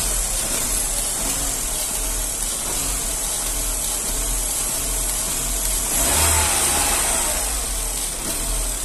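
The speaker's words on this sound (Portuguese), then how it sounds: "Acelera lá pra nós ver, vai acelerar." The engine of a 2009 Chevrolet Astra revving under inspection for a pinging knock. The engine noise is steady and close, rises in a brief surge of acceleration around the middle, then settles back, with no speech.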